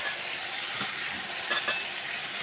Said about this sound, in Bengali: শিং মাছের তরকারির জন্য মশলাটা ভালোভাবে যে কষায় নিতেছি